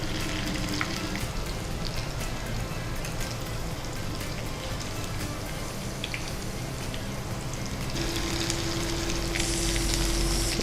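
Corn pakoda frying in hot oil, a dense steady sizzle and crackle heard close up, continuous throughout and growing a little brighter toward the end.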